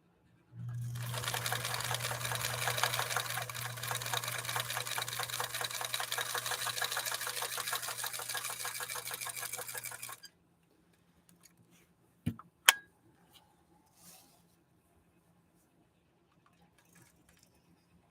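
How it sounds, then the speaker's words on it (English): A 1954 Husqvarna sewing machine with a leather needle stitches through six layers of denim, a fast, steady mechanical chatter with a low hum for about ten seconds, then stops, followed by a few faint clicks and knocks. "we'll see how this machine manages this. 6 layers of denim. Again, sewing with a leather needle."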